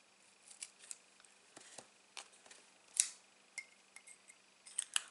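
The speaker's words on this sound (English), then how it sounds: "I'm going to grab a little slither off the end and I'm going to cut that piece in half" Scissors snipping through card at close range, a string of short, sharp cuts spread unevenly across the span with a crisper snap near the middle, quiet room with no talk.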